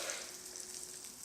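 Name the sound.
butter sizzling in a waffle maker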